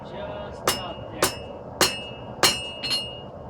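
Five sharp metallic hammer strikes ring out at a steady pace, each with a bright, clanging tail, as a light hammer forges an iron age utility knife on an anvil nearby.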